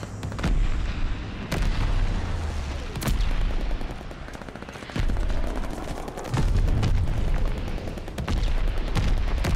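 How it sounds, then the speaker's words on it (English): A mortar barrage in Call of Duty Vanguard on the Demyansk map, with repeated heavy explosions and gunfire bursts landing one after another in a loud, irregular rolling sequence. "Allies calling a mortar barrage."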